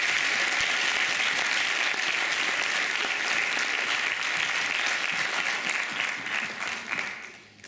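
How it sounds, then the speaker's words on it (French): A hall audience at a student eloquence contest final applauds warmly, a dense sustained wash of clapping that gradually thins and fades out toward the end. "Je vous prie de l'applaudir, s'il vous plaît."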